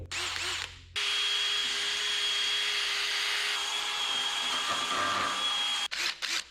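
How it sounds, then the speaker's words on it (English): A wire wheel on a power tool cleans out a weld slot cut in a custom steel control arm for a 1963 Loadstar truck, spinning up to a loud, steady whine for about five seconds before cutting off. "You know the deal, get your wire wheel."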